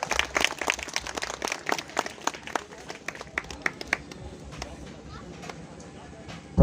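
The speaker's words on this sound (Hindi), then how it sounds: "जोरदार तालियों से इसका स्वागत करें" An audience claps to welcome a pastor at a Christian gathering, scattered sharp handclaps that are quick and busy at first, then thin out into sparse claps as the applause fades.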